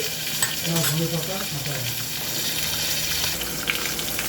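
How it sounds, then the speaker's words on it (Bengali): Koi fish frying in oil in a small wok, a steady close sizzle with occasional stirring or scraping running through the whole stretch. "দেখো কীভাবে মাছটা ভাজছি"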